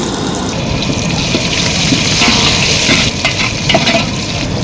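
Onions and green chillies fry in oil in a pot, a loud, steady hissing sizzle that swells slightly midway and carries on throughout.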